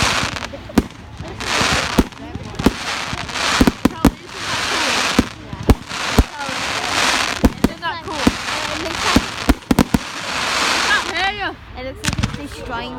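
Bonfire night fireworks going off in a long barrage of loud, sharp bangs at irregular intervals over dense crackling and fizzing, close by, with people's voices and exclamations mixed in.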